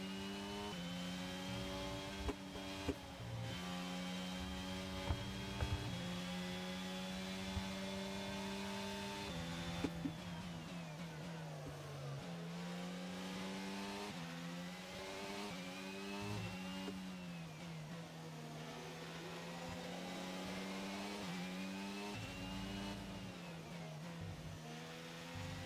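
Formula 1 race car engine in the racing game F1 22, high-pitched and revving up and down through gear changes as it climbs, drops and swells again, loud and continuous with no talk.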